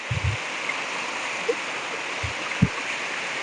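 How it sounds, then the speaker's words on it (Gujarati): Rainwater flows into a yard during a windy storm, a steady rushing wash of water heard close by, broken by a few soft thumps. "આપણે ઓંચરીમાં પાણી આવવા માંડ્યું છે"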